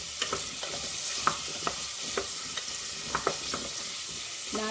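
Grated carrot fries in ghee for carrot halva, a steady soft sizzle broken by repeated scraping and stirring strokes of a spoon against the pan.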